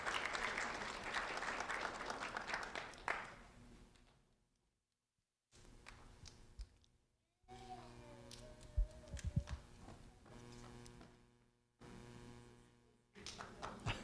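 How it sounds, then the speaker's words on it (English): Applause from an audience at a sheriff's office recognition event honoring a kindergarten student, loud clapping for the first few seconds that fades out, followed by quieter room sounds, brief tones and faint background noise. "a round of applause for Isabella Bowlesby, please."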